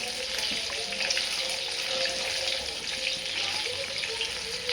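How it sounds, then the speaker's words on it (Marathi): Paneer pieces fry in hot oil over a high flame, a steady, dense crackling sizzle that holds at an even level throughout without any talk. "मी तळायला टाकलं आहे हे बघा एक नंबर मस्त झालेलं आहे"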